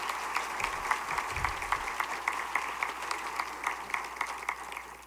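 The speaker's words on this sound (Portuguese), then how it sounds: "Queria uma salva de palmas," An audience claps steadily and evenly through the whole stretch at a solemn session marking a school's golden jubilee, with no voices over it.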